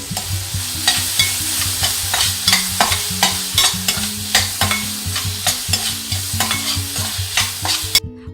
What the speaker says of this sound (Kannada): ಸ್ವಲ್ಪ ಹಳದಿ ಪೌಡರ್ ಮತ್ತು ಉಪ್ಪನ್ನು ಸೇರಿಸಿ ಚೆನ್ನಾಗಿ ಇದನ್ನು ಫ್ರೈ ಮಾಡ್ಕೊಳ್ತೀನಿ